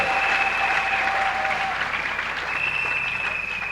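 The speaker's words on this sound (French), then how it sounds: "Acclamez fortement pour le Seigneur" A church congregation applauds loudly and steadily for the Lord, dense continuous clapping filling the room throughout with no voices rising above it.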